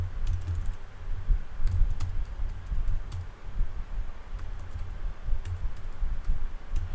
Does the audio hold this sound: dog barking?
no